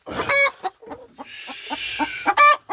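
A hen clucks in short, sharp, separate bursts after laying an egg, close by and fairly loud, with quieter clucks between them and a steady high hiss in the middle.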